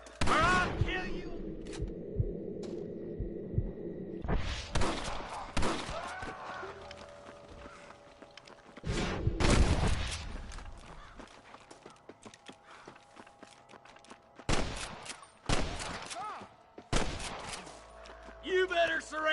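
Gunfire in the Red Dead Redemption video game: sharp bursts of shots and rapid volleys spaced through the scene, loud and close, with hoofbeats and voices talking in between.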